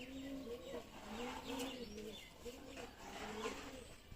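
A pigeon coos in repeated low, rolling phrases, fairly faint, with soft chirps and ambient noise around it.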